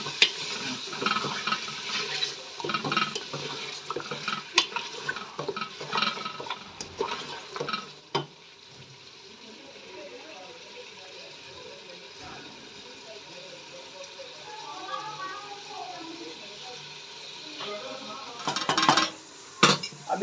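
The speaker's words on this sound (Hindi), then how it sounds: "अब हम अच्छी तरह भूनेंगे।" Mutton for nihari korma is stirred and fried in a pan: a spoon scrapes and clatters against the metal over a low sizzle, busy at first, then quieter, with a voice briefly present.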